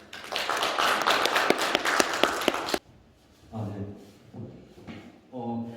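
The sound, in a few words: audience clapping to welcome speaker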